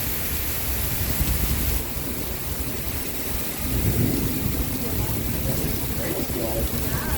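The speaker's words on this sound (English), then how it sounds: "The first huge rainstorm of the season." Heavy rain pours down across New York City streets near the Williamsburg Bridge, a dense steady broadband hiss heard up close beside a building, with a voice speaking over it.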